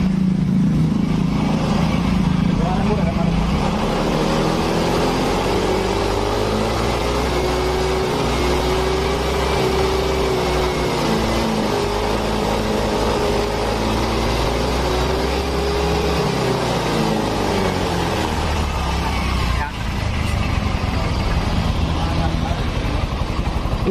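A Yamaha Mio M3 scooter engine with a charging fault revs up to higher RPM, its steady loud drone rising and falling in pitch over about twenty seconds and dipping briefly near the end.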